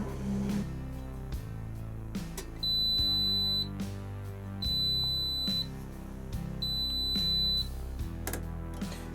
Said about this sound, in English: activate and deactivate the final beeper setting on your Zanussi jet system washing machine